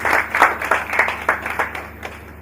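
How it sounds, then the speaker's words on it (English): Applause from an audience at a hackathon pitch event as the next team is called up, moderately loud, with a ragged rhythm of irregular clap bursts that slowly thin out. "A round of applause, please."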